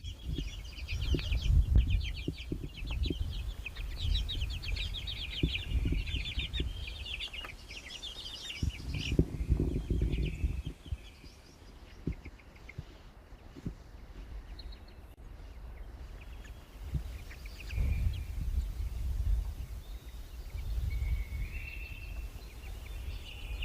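Birds calling outdoors on a farm, including clucking chickens and chirps, in repeated short bursts over a quiet background with low rustling and handling noise, moderately close.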